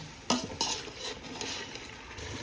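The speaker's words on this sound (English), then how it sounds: "Now we have to mix it nicely so that the aroma and the flavor gets into your recipe." A spoon stirring chicken pulav in a pot, with a few scraping strokes against the metal and a soft sizzle underneath, close and fairly quiet.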